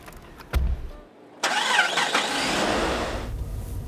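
A car engine cranks, catches and settles into a steady idle nearby, after a sharp thump like a door closing, with no talk over it.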